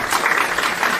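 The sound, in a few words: audience applause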